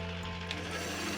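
An opal polishing machine fitted with 400 to 3000 grit wheels starts a test run, giving a steady mechanical hum with a faint whirring rattle, close and even throughout.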